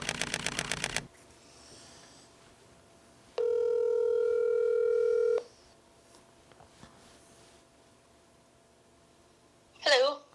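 A phone call being placed: a brief burst of dialing tones, then a single long ringback tone lasting about two seconds, followed by a quieter pause and a short clatter near the end.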